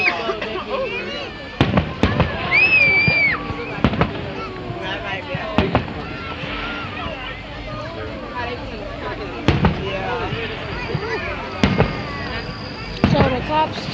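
Fourth of July fireworks and firecrackers go off in a series of sharp, loud bangs at irregular intervals, with a few whistling launches between them.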